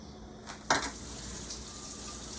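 A metal lid set onto a pot of chicken wing soup on the stove lands with a single sharp clank, and a low simmer carries on around it in the kitchen.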